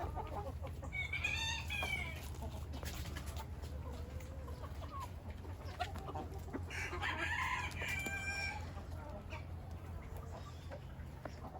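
Hens and roosters feeding on morning feed cluck and call at a moderate distance over a low steady hum, with scattered crowing and squawking bursts standing out now and then.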